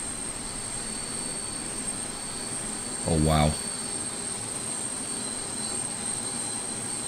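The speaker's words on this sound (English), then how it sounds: "It's already noisy from the plane." A loud airplane engine surges briefly in American Truck Simulator against a steady background hum, with a short exclamation spoken over it.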